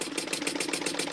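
A small wobble-plate steam engine runs on compressed air from a compressor, making a fast, even, close-up chuffing pulse of exhaust beats with a light mechanical rattle.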